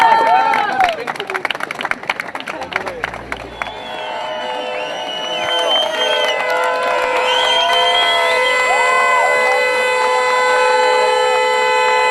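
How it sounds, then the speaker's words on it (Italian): A protest crowd at a police eviction in Treviso bursts into applause and cheering, with sustained clapping and scattered whistles and horn-like tones layered over the noise. "applauso"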